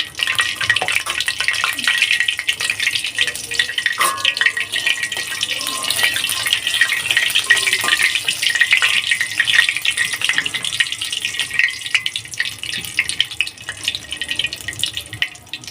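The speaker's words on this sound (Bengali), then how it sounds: "পাঁচফোড়নটা হালকা একটু ভেজে নিচ্ছি।" Steady, close hissing sizzle of panch phoron spices frying in hot oil for dal, with a constant bright crackle running the whole time.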